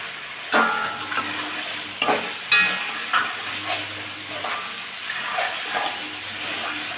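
Onions, garlic and green chillies fry in a pan with a soft continuous sizzle, broken by several sharp clattering stirs from a spoon against the metal.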